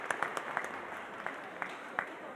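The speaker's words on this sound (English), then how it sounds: "Round of applause for the Friends." Faint, scattered hand claps from a small audience at a mayor's neighborhood coffee hour in Chinatown, thin and distant in a quiet room.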